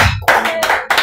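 A church congregation at a Christian worship service claps for Jesus in loud, brief bursts of many hands, three sharp rounds in quick succession.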